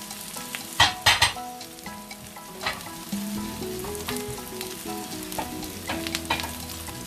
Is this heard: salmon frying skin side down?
yes